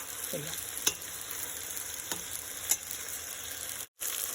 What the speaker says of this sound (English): First we have to fry until the oil comes out.